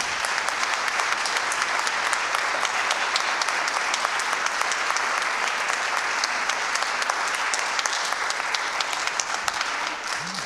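An audience at a Santé Mentale France closing session applauds the head-office staff, with steady, dense clapping that holds evenly loud from start to end.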